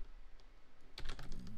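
A few quick keystrokes tapped on a computer keyboard, a brief cluster of close, crisp clicks following a quiet pause.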